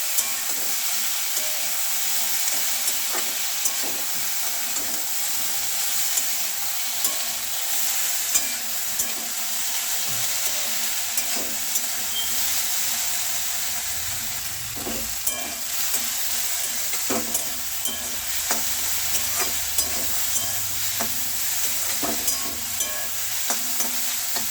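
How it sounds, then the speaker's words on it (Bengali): Half-boiled taro stolons stirred in a hot pan for a prawn curry, with a steady close sizzle of frying and scraping stir strokes recurring throughout, no voices. "এবার হাফ সেদ্ধ করে রাখা লতিগুলোর মধ্যে দিয়ে দেবো। ভালোভাবে নাড়াচাড়া করে ভালোভাবে করে নেবো।"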